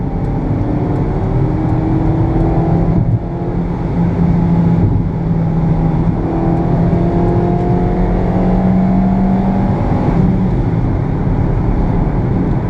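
A Hyundai Atos 1.1-liter engine drones steadily from inside the cabin, its pitch slowly rising as it accelerates at around 80, with a brief dip around a gear change.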